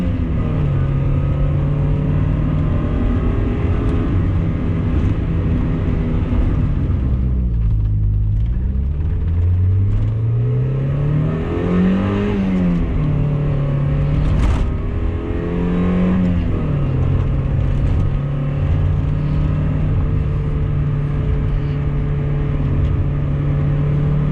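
A 1990 Mazda Miata at full throttle: the engine drones steadily, dips, then climbs through several rising rev sweeps before holding a strong steady note, heard loud from inside the car with no talking.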